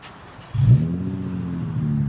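A 2003 Infiniti G35 with its muffler deleted starts up and revs, a sudden deep rumbling engine note that settles into a steady, throaty idle.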